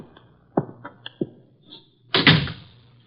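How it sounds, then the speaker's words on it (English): A door in a radio drama creaks and clunks open, a few soft knocks and handle rattles followed by a louder swinging thud, heard alone without voices. "What do you know? The door's open."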